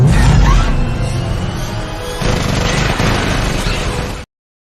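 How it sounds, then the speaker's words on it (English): A loud, broadband explosion effect opens with a heavy boom, then rumbles and crackles on for about four seconds before cutting off abruptly, played as a transition sound. "Do you have an explosion to transition us?"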